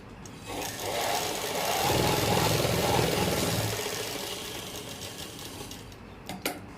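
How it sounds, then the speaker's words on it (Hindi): A sewing machine runs steadily while stitching a pocket onto an Afghani salwar, whirring at a fairly constant pace for several seconds before slowing and stopping with a few small clicks near the end. "तो यहाँ पर अब हमें सिलाई लगानी है।"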